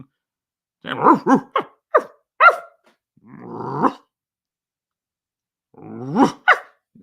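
A dog gives a few sharp, close barks in a quick burst, a low growl, then two more barks after a pause.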